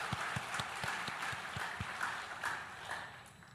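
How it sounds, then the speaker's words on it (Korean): A church congregation applauds together, a soft, distant patter of many hands that stays steady, with faint low thumps running beneath it. "우리 다 함께 하나님께 영광의 박수를 올려드립니다"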